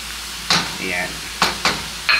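Sautéed bamboo shoots with sugar, soy sauce and oyster sauce get stirred in a hot pan, with several sharp scraping strokes of the utensil over a light sizzle, close and fairly loud, without speech.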